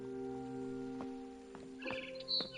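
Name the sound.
barn swallow chirping, video game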